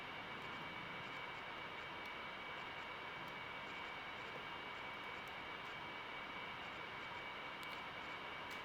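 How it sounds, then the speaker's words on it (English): Steady cockpit drone of an MD-80 in a flight simulator climbing out of Atlanta, a low, even broadband rumble with a faint high whine, continuous and quiet throughout with no voices. "Rather quiet aircraft up the front of an MD-80."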